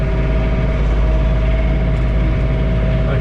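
A John Deere 3046R compact tractor runs at full throttle in a blizzard, heard from inside the cab as a loud, steady, low engine drone.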